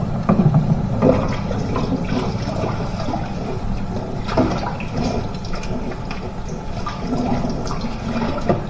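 Dishes being washed under a steady stream of running tap water in a home kitchen in the Czech Republic, a continuous close splashing rush with faint clinks of dishware and no talking.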